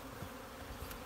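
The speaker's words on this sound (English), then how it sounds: "I'm going to smoke those bees to get them to go down" Honeybees buzzing around a hive as a package colony is settled into a temporary home; a faint, steady swarm drone that continues throughout with no voices.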